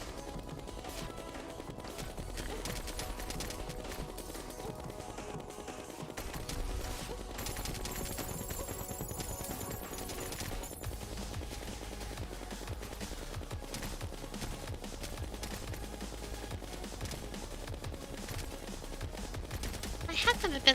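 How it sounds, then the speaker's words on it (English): The fastest-firing gun in Terraria Calamity shoots in a dense, unbroken rattle for about twenty seconds, steady and fairly quiet, blended with game music and no clear talk. "Should have expected the fastest firing gun in the game to do that."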